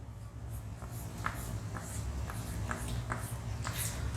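Chalk or marker writing on a board during a Hindi lesson, short scratchy strokes repeating at an irregular pace, close and fairly quiet over a low background hum.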